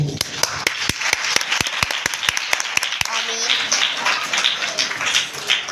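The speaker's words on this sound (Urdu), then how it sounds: "اپنے لیے تالیاں بجائیں" An audience at a church gathering claps: loud, distinct individual claps at first that merge into a denser wash of applause, with voices mixed in toward the end.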